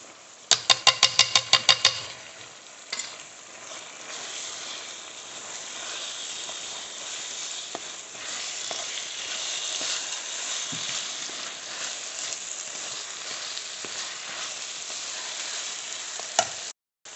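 Potato and carrot filling for Nigerian meat pie sizzles steadily in a pan as flour is stirred in, opening with a quick run of sharp utensil taps before a long, even frying hiss.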